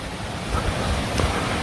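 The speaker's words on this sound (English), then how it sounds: "this one apparently is called Waterfall of Three Fingers" Waterfall of Three Fingers in Apiúna, Brazil, a continuous broad rush of falling water with wind buffeting the microphone, steady and fairly loud throughout.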